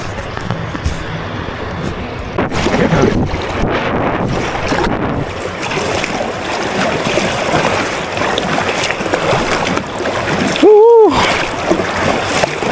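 Kayak paddling on the fast-flowing Vistula river: wind buffets the microphone while water splashes and churns close by, with a short tonal squeal near the end.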